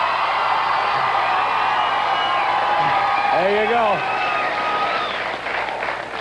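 Late-night television studio audience in New York clapping and cheering, a sustained crowd roar with scattered whoops that fades toward the end, with someone talking over it.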